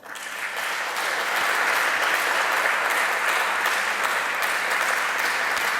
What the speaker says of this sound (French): C'est ça que je souhaiterais qu'elle soit saluée encore par vos acclamations